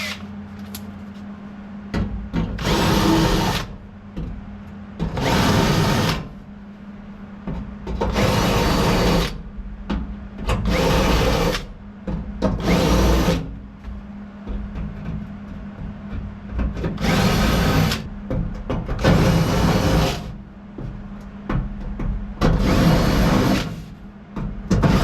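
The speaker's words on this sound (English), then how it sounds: "Put some weight on here, and we're gonna weld these in." A replacement car floor pan is welded in with a series of loud, sharp bursts of crackling arc, each lasting about a second and separated by short pauses, with no talking.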